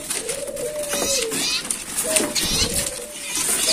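Caged birds chirp and call at a bird shop stocked with rows of ciplek sawah, short repeated whistled notes amid a busy background and someone talking.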